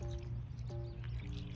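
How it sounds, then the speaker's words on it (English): Coconut water poured over cereal in a bowl, a close liquid trickle with small drips and splashes, quiet and steady with no talking. "Now we're going to pour this coconut water."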